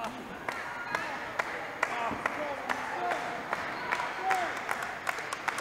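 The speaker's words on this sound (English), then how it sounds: "The crowd cheering on Dawson." A crowd at a pro wrestling championship match cheers and claps steadily, with sharp impact-like slaps cutting through and a commentator talking over the noise.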